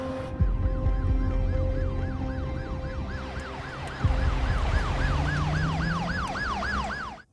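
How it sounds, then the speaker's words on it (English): An ambulance siren in a TV show wails in repeated rising and falling sweeps over a low vehicle rumble, starting moderately loud and swelling louder midway as it seems to draw nearer. "Oh, an ambulance."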